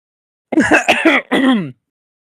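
A short burst of throat clearing and coughing, harsh and close, about a second long, followed by silence.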